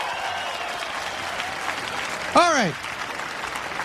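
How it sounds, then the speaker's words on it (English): A huge rally crowd of about 150,000 people applauds in a long, steady, distant wash of clapping and cheering. A sharp whistle rises briefly partway through, and someone speaks a couple of words. "Give yourselves a round of applause."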